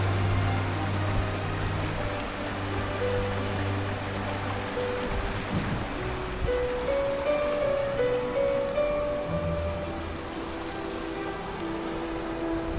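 The Yarra River at Warrandyte flows with a soft, steady wash through a summer scene, while faint bird calls and tonal chirps drift in from a distance.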